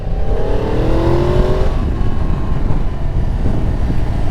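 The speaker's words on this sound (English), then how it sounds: "The engine sounds delicious." A 2022 Yamaha MT-10 motorcycle engine, rated at 164 horsepower, rises in pitch under acceleration while riding, then settles into a loud rumbling drone mixed with rushing wind noise.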